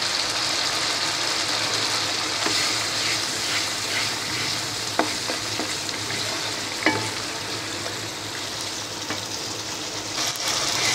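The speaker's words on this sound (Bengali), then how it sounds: "এখন আমি মশলাগুলি ভালো করে কষিয়ে নেব।" Spices frying in hot oil for khichuri, a steady close sizzle that holds for the whole stretch, with faint stirring scrapes and small clicks of a utensil against the pan.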